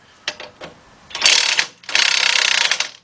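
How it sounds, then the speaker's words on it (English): A cordless impact wrench with a 21mm half-inch-drive socket works a sway bar link nut, giving a few short buzzing bursts followed by two longer rattling hammering runs, close and loud. "get my 21mm, half-inch drive, get my cordless impact"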